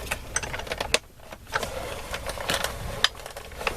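A sewing machine stitching scraps from a fabric stash, heard up close as a rapid, clattering mechanical chatter in short uneven bursts with brief pauses between them.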